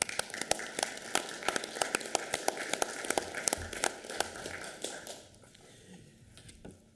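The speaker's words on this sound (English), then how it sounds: "Can I ask for another round of applause" Council chamber members give a round of applause, fairly faint and steady with distinct individual claps, tapering off near the end into a quiet room.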